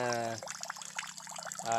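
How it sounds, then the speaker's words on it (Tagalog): Plentiful water flows steadily on a farm, a soft continuous rush running between short stretches of voice at the start and end. "Yung tubig flowing. Napakaraming tubig."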